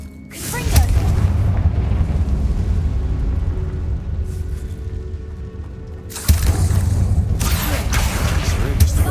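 Confringo spell blasts in the Hogwarts Legacy video game: a loud, deep boom hits early and rumbles on. A second heavy blast strikes near the end, with low thundering debris between.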